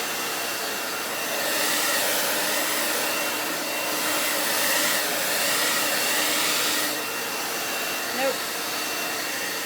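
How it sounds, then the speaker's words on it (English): A blower pushes acrylic paint across a Dutch pour in red, green and gold, giving a steady, close, loud airy whoosh that swells slightly and then eases, with one brief word spoken over it. "The edge on the blower just wants to go wherever it wants to go."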